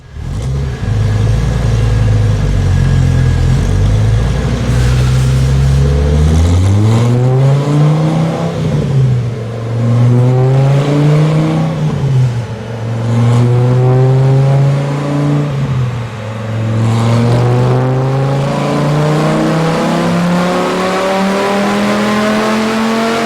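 Dodge Viper V10 with a BBK high-flow throttle body revving hard on a dyno, a loud continuous engine roar climbing and dipping in pitch through repeated pulls, close and dominant throughout.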